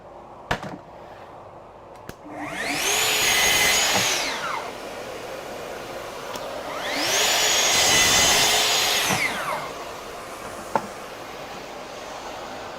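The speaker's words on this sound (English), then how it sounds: "You might want to turn the sound down a little bit when I use the track saw." Two long, loud track saw runs cutting wood with a rising then falling whine, each lasting about three seconds, separated by quiet pauses and a few sharp clicks.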